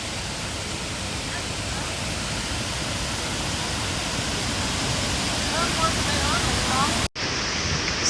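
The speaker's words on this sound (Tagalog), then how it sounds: "So, we are at the Tinoy Ann Falls." Rushing water at Tinoy Ann Falls, a dense, steady, broadband roar heard close and loud throughout, with a brief dropout near the end.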